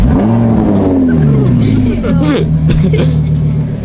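A twin-turbo Lamborghini Huracán engine starts and settles into a loud, steady idle with a deep harmonic drone, while people talk over it close by.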